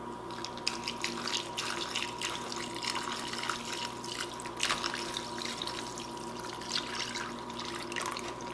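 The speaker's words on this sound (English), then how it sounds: "Carefully pour it into the bag." Cooled beef jerky marinade is poured into a bag of sliced meat, a soft, faint trickle and splatter of liquid with small drips, continuous and close.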